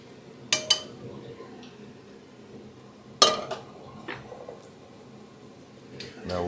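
Pieces of fish for Vietnamese caramelised fish are moved into a cooking pot with a few sharp metallic clanks and scrapes of utensils against cookware, spaced out over a quiet kitchen background.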